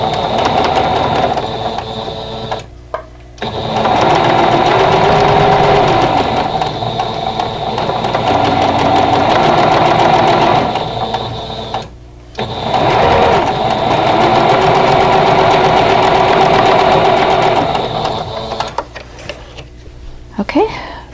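Domestic sewing machine stitching the bias edges of a flower pot quilt block, running in two long steady bursts with a short pause between, close and fairly loud.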